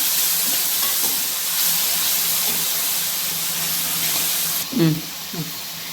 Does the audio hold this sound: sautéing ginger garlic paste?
yes